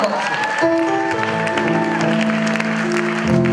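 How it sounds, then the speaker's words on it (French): Applause from a church congregation runs steadily throughout, overlaid by sustained musical tones and a voice in the foreground. "Un applaudissement pour nous."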